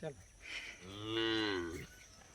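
A cow gives a single long moo, rising and then fading, heard clearly over quiet surroundings.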